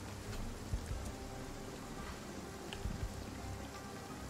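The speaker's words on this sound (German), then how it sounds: "25. Dezember und es regnet." Steady rain falling in the zombie survival game Project Zomboid on a wet Christmas Day, a soft continuous patter with a few sharper drops, fairly quiet and unbroken, with no voices.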